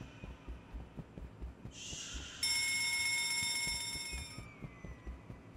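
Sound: fire alarm ringing in video game Escape the Backrooms

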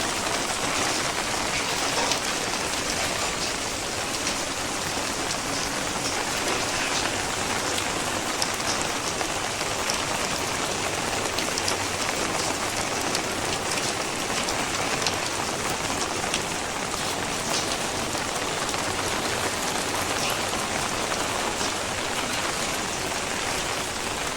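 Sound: rain falling on a rooftop terrace

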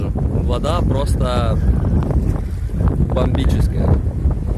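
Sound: wind blowing into microphone

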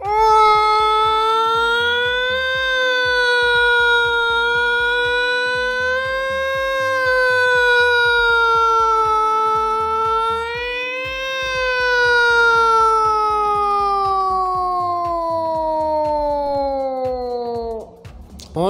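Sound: voice imitating ambulance siren

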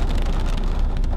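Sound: rain falling while driving a taxi

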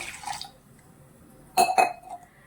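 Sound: water poured into a pan

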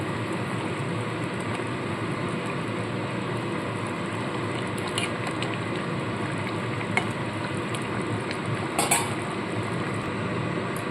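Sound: stirring vegetables in a cooking pan

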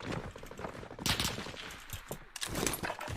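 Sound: gunfire in the video game Warzone Pacific

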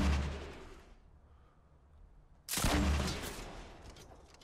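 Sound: gunfire in Fortnite Battle Royale, a video game

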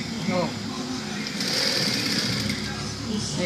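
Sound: sewing machine stitching jeans seam

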